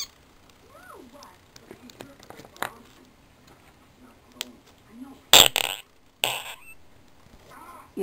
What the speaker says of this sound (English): Making fart sounds with slime.